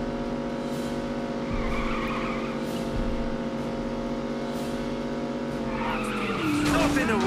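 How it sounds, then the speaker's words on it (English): Race car in The Saboteur video game, with a steady loud engine drone, then tires skidding and squealing near the end, while someone talks over it. "This race car is not very good at racing."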